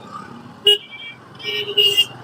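Car horns in heavy road traffic give short toots: one sharp blast, then a cluster of two or three more over a low traffic hum.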